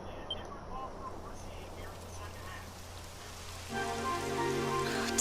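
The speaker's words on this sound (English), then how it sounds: "Typical. It would have to go and start raining, wouldn't it?" Rain falling in the video game Dragon Quest 11, a soft steady patter with scattered faint drops, joined near the end by a brighter tonal swell of game music.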